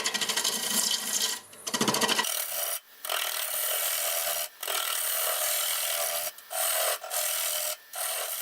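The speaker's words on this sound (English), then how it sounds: "Let's just cut some of this away. Start a tenon" Wood being cut away on a lathe while turning a live edge drift boat bowl, a loud steady broadband scraping rasp that cuts out briefly several times as the tool lifts off the spinning wood.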